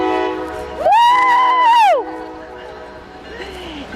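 A train horn sounds one long, loud blast beside a river at Brown's Island, holding steady for about a second before cutting off. A faint, shorter tone follows, and a voice cheers just before the horn.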